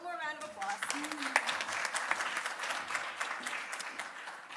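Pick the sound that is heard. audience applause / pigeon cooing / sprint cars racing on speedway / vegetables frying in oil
audience applause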